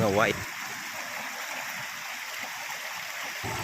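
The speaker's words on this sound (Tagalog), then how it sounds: "Nasa ilog na kami, mabuti na lang maliit lang ang tubig" Small mountain river flowing steadily over rocks, a continuous broadband rush of water that stays even throughout, with a brief burst of voice-like sound at the very start.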